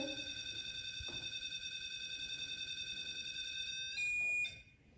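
A REM pod emits a steady high-pitched electronic beeping tone continuously, shifting pitch briefly near the end before cutting out, over faint background hiss.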